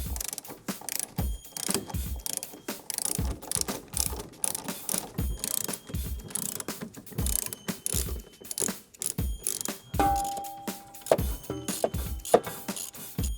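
A ratchet wrench clicks rapidly and steadily as a bolt is tightened on a car brake caliper assembly during a brake disc and pad job, close and loud, in repeated bursts with brief pauses and no talk.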